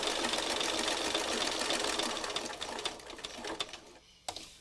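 A sewing machine stitches the pages of a meandering book, running loud and steady with a fast mechanical chatter, then slowing and sputtering into short bursts before stopping.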